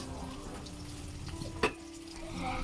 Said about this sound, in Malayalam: അത് അവിടെ കോളിഫ്ലവർ വറുത്തെടുക്കുന്നുണ്ട്, പിന്നെ ദോശ ചുട്ടെടുക്കുന്നുണ്ട്